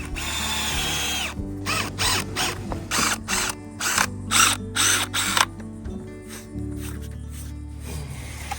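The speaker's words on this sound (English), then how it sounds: "right now we're drilling in the bases" Power drill boring into the bases of an old solar arch, a series of short whirring bursts in quick succession at close range, with a background hum between them and no speech.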